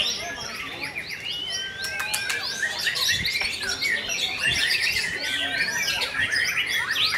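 An eight-month-old songbird at a bird-singing contest chirps in quick, bright bursts that run almost without pause, with faint crowd murmur underneath.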